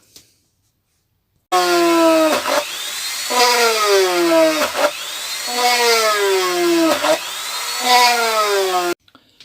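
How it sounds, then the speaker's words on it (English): A power drill whines loudly in several close bursts while drilling pilot holes in plywood, its pitch sagging each time the bit bites in, with short pauses between runs. "We've drilled all our pilot holes in."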